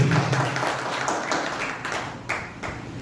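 Dense audience applause fills a business-plan presentation hall, a steady wash of many hands clapping at close range with no pauses.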